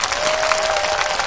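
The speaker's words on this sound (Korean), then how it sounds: "큰 박수로 모시도록 하겠습니다" An indoor audience claps steadily to welcome a speaker at a Korean adult literacy education event, a dense continuous round of applause at close range.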